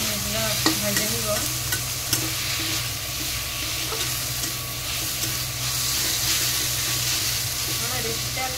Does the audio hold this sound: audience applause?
no